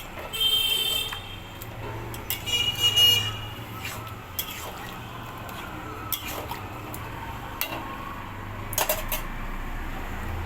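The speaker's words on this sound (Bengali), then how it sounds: "সব কিছু দিয়ে আবারও ভালো করে মিশিয়ে নিচ্ছি।" A soybean curry with spices being stirred in a pan, with scraping and clinking of a utensil against metal and soft wet squishing, louder early on and then a low simmer with occasional taps.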